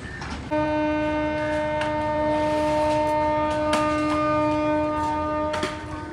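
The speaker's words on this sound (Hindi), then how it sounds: "कुछ ही सेकंड रुकने के बाद मलकवाल एक्सप्रेस निकल रही है।" The Malkwal Express pulls out of a station on an early-morning run from Mandi Bahauddin toward Pind Dadan Khan, with a sustained loud multi-tone horn blast over rumbling rail noise and a few sharp knocks.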